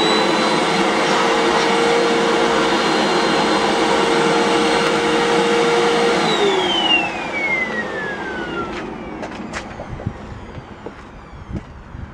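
A Hoover vacuum cleaner runs with its HEPA filter removed, giving a loud, steady whine that then powers down with a falling pitch, followed by a few faint clicks and knocks.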